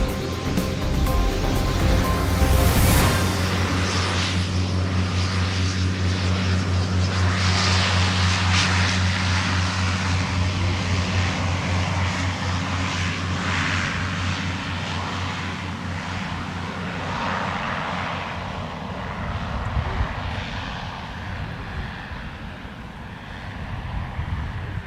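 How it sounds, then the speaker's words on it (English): A Swearingen Metroliner turboprop of Bemidji Aviation taxis at Minneapolis–St. Paul Airport with a sustained droning propeller hum and whine, strong and near at first, then gradually fading and rising again through shifting engine noise, without talk. "That was Bemidji Aviation on the move with a Swearingen Metroliner"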